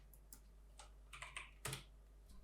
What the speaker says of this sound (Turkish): Boss yazıyorum ne varsa siliyorum abi.